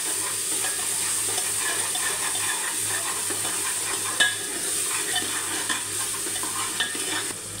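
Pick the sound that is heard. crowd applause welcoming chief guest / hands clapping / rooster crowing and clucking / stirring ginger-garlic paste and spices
stirring ginger-garlic paste and spices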